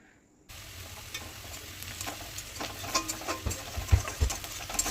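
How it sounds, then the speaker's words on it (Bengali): Onion and garlic frying in a pan for a dried fish paste, a steady close sizzle with stirring and scraping knocks growing louder toward the end. "পেঁয়াজ আর রসুনটা ভাজা হয়ে গেছে।"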